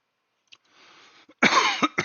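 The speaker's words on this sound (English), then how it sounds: "I mean, cough in your ear." A single close cough bursts out after a brief breathy throat sound, loud and sharp, followed by a couple of short rough aftershocks.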